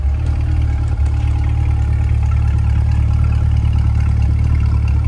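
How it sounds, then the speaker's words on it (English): A 2020 Chevrolet Corvette 3LT Z51 convertible idles steadily with a deep, even exhaust rumble close by, no talking. "listen to the exhaust at idle here"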